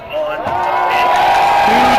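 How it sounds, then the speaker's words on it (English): A crowd roars at a Texas vs Lone Star World Cup 8 final match, a loud, continuous wash of cheering with a high wavering tone over it. "as you hear the crowd roar"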